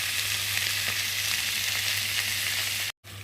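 Spice paste sautéing in oil for a pabda fish curry, a loud, dense sizzle running continuously, broken by a brief cut near the end before resuming.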